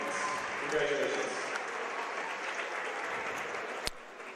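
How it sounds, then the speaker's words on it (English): Applause from a crowd at a high school boys' basketball senior night in a gym, a steady sustained wash of clapping throughout with a brief sharp knock near the end. "Would you please give them a big round of applause?"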